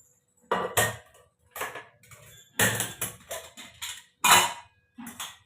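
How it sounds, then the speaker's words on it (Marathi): Chapati dough is rolled out on a board in a home kitchen, a series of separate wooden knocks and clatters in short bursts with quiet gaps between them, close and moderately loud. "इकडे चपाती पण चालली आहे। चला आता पटपट पटपट लाटून घेते"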